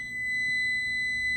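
A steady, high electronic oven timer beep holds for over a second, clean and sustained with a faint room hum beneath.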